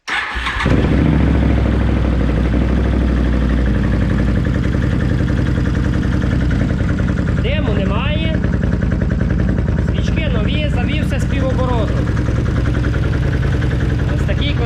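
A BRP Can-Am Outlander 800 ATV engine starts up and settles into a steady, loud idle close by, with brief throttle blips and a voice speaking in the background.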